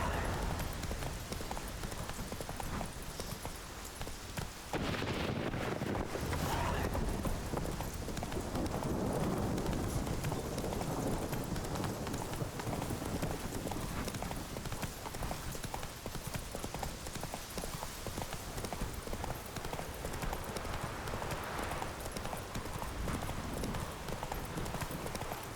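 Roach, the horse in The Witcher 3: Wild Hunt, gallops with steady, continuous clip-clop hoofbeats that run close and loud for the whole stretch, over a low rumble of game ambience and no talk.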